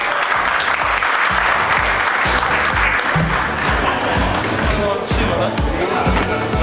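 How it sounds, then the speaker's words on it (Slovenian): A seminar audience of flight instructors claps loudly and steadily, the dense applause carrying a regular rhythmic beat of unison clapping from start to finish. "Zdaj se najbolj glasno ploska"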